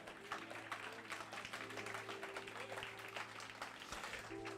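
Church congregation applauds during a Portuguese-language sermon, with steady, faint clapping heard over a low hum, continuing without pause.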